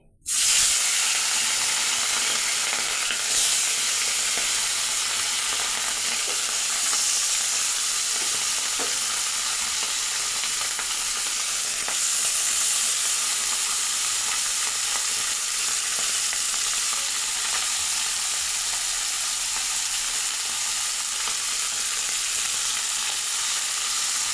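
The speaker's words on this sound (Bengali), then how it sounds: "এবার মরুলা মাছটা আমি ভেজে নেবো এইভাবে কড়াই" Small mourola fish fry in hot oil in a wok, a loud, continuous hissing sizzle that holds steady for the whole stretch, with faint occasional pops and no voices.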